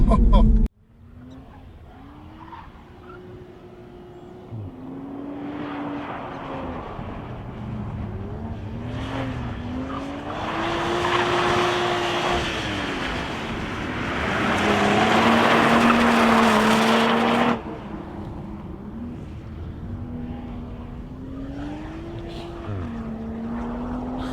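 Toyota Supra driven on a race track, engine tone rising and falling through repeated revs and slides, with a louder burst of broadband tire squeal near the middle; a voice is briefly heard.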